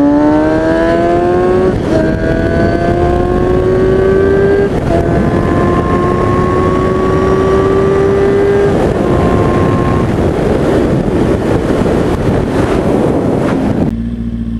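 Motorcycle accelerating hard through several rising gear pulls while racing a car on a road beside a freeway, loud and close, with heavy wind rush and no talk.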